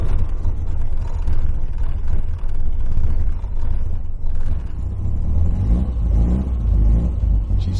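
A 1960 Austin-Healey Mk1 Bugeye Sprite engine turns over in cold weather and settles into a steady, rumbling idle, close by, with a few revs rising and falling toward the end.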